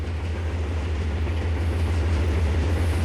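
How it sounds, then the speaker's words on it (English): A freight train rumbles past in the Trainz railroad game, a steady loud low drone of rolling wagons that holds evenly throughout with no voices. "Wait for the freight train to clear the block ahead."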